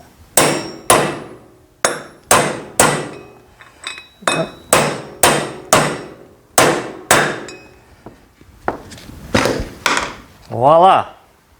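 Front wheel bearing on a Yamaha Raptor being tapped into place with a hammer on a socket, a run of sharp metallic blows in quick pairs and small groups, close and loud, with a short voiced noise at the end.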